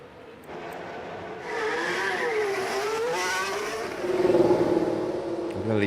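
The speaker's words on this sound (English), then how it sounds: "Tsunoda is out there on track at the moment" Formula One cars racing on track in the F1 Manager 24 video game at Baku, a continuous high engine whine rising and falling through gear changes as cars pass, layered and fairly loud, with no talking.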